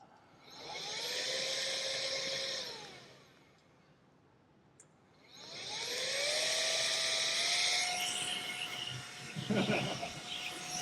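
A small multi-stage electric air blower for cleaning parts, similar to a leaf blower, whines as it spins up and runs for a couple of seconds, then stops. A second, longer run follows, loud and close, with a clatter near the end.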